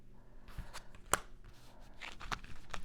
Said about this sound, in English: I will shuffle until I feel called to stop